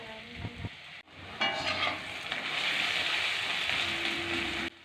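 Onion, slit green chillies and chopped garlic sautéing in a pan for a Bengali kaikka fish curry: a steady, loud sizzle after a brief pause, with stirring scrapes throughout and no talking.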